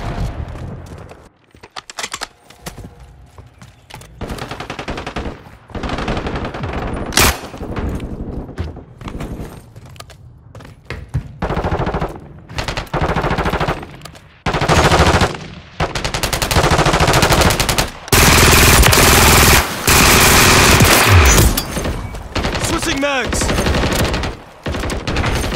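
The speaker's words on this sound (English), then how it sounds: "Taking enemy fire." Gunfire in the Call of Duty video game comes as loud, dense bursts of automatic fire and single shots over nearly half a minute, with short gaps between bursts and occasional voices mixed in.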